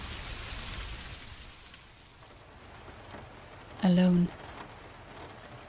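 Steady rain hisses in the video game Moral Retrograde, a constant wash of falling water broken briefly by a single spoken word.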